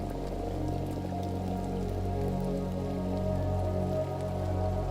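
Steady rain falls across the whole stretch, a dense continuous patter of drops on a hard surface with no break and no voices.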